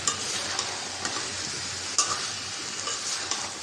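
Chicken with tomato, potato, drumsticks, peas and lentils is stir-fried in a pan with a steady, close sizzle, while a spoon scrapes and stirs at irregular moments, and no one is talking.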